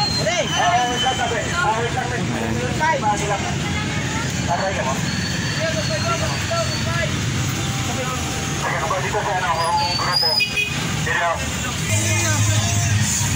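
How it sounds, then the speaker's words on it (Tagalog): Three motorized tricycles pull away one after another, their engines droning steadily under loud crowd babble and talk nearby. "Bali tatlo na pong tricycle yung aalis dyan."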